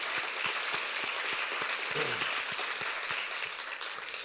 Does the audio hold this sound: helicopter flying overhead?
no